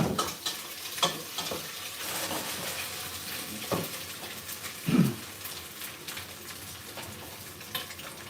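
Stir-roasting in a pan: repeated scraping strokes of a utensil over a soft frying hiss, with a few louder knocks against the pan, close and steady with no voices.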